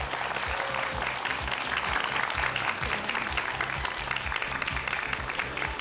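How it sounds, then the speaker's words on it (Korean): A studio audience on a Korean television talk show gives sustained, dense applause to welcome a guest. The clapping stays loud and even throughout, with a steady low rhythmic thumping underneath and no talking. "큰 박수로 맞아주시죠"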